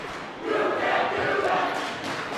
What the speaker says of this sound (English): Crowd obviously getting into it